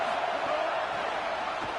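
A stadium crowd roars steadily in a college football video game, a dense, sustained wash of cheering throughout with no distinct breaks.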